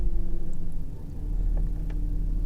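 A Ford Ranger engine idles high with a steady low rumble close by, then dips slightly as it is put in gear before settling back to a continuous hum.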